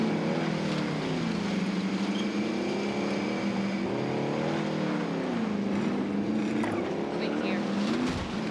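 A vehicle drives in the video game Call of Duty Warzone, giving a loud, continuous engine drone whose pitch rises and falls as it speeds up and slows.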